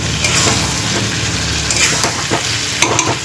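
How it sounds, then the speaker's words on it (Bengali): Meat browning in a pan for a thin curry, a steady loud sizzle and hiss with scraping stirs and a few clinks of the spoon against the pan, up close and without talk. "আর এখানে এই যে মাংস কষাচ্ছি"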